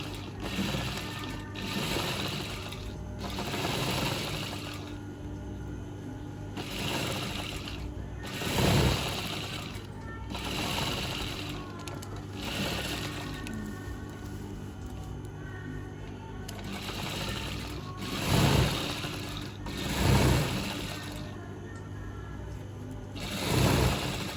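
A sewing machine stitches along the ruffle of a pillow cover, a steady mechanical whir running throughout at moderate level, punctuated by several louder thumps and handling knocks as the fabric is moved.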